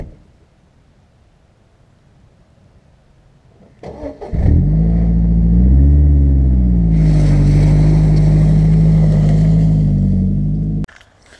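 A two-wheel drive car drives out of the woods: a loud engine rumbles steadily for about seven seconds after a quiet start, revving and rising in pitch partway through, then cuts off abruptly.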